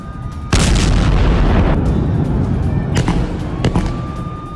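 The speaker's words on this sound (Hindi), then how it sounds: "गाजा पर इजराइल की बारूदी बौछार को लेकर लगातार बमबारी कर रहा है इजराइल" Explosions from Israeli bombardment of Gaza: a sudden heavy boom followed by a rumbling roar, then two more sharp blasts later on, all loud and distant-sounding with no voices.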